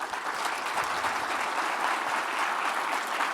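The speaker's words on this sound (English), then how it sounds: "I really want you to all just take a moment and applaud that type of deep, connective work that's being done" Audience at a city's State of the City address applauds steadily, a dense, even wash of clapping from a large crowd.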